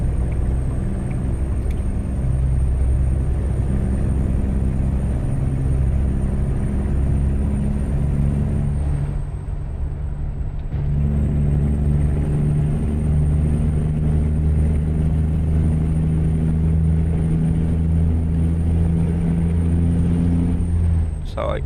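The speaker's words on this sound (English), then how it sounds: "a truck with a engine this size and then putting that little dinky supercharger on it, what it would sound like" Deep, steady rumble of a supercharged 2,200 hp truck engine in a modded truck-driving game, droning loud and continuous with a brief dip partway through before resuming at full roar.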